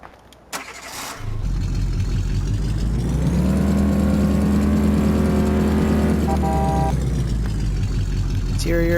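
Big truck in Farming Simulator cranks and starts with a clatter, then settles into a loud, steady diesel drone that builds slightly before easing near the end.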